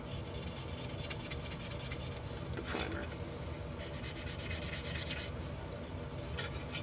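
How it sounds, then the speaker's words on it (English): A Tamiya 1:24 Nissan Silvia model car body, coated in primer, is worked over with a sanding sponge: a steady, close, dry scratchy rubbing that runs throughout, with a few brief words spoken. "Now if your sanding sponge starts to get gummed up"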